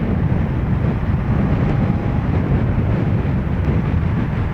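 Loud, constant wind roar rushing past the microphone while riding, dense low rumble like air streaming by while moving, no voices.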